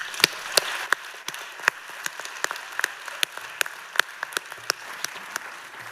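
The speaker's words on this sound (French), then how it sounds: "je vous demande de l'applaudir." An audience at an awards ceremony applauds steadily, with dense clapping from many hands and a few sharper individual claps standing out, heard close and without talk.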